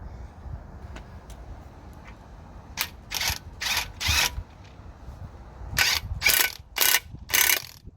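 Ratchet wrench tightening bolts on the rear suspension torsion arm of a VW Passat B6, with bursts of rapid close clicking that come in separate groups, louder toward the end, with quiet shuffling between them.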